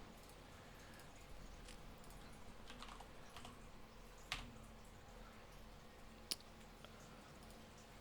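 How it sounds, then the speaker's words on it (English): Soft keystrokes patter on a computer keyboard in irregular bursts, quiet and close, with a couple of sharper clicks standing out against a low background hum. "So when I'm typing or putting emotes in chat, I am not talking."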